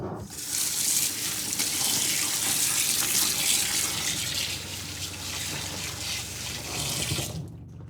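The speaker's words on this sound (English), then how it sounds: "I'm going to rinse it with some cold water" Cold tap water gushes steadily into a sink to rinse wilted spinach, a loud continuous splashing stream that cuts off abruptly near the end, with no talk.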